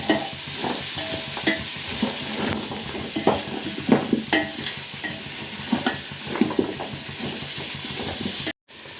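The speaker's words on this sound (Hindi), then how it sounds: "तो इन सब्जियों को साथ में बस 2 से 3 मिनट हम भून लेते हैं पहले।" Vegetables and spices sautéing for a festive no-onion khichdi, a steady sizzle with repeated scrapes and clinks of a spoon stirring in the pan, close and loud, ending abruptly.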